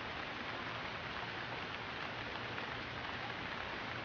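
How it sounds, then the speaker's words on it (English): Steady, even rain in the survival video game Stranded Deep, a constant hiss of rainfall with no breaks and no one speaking over it. "It's still raining."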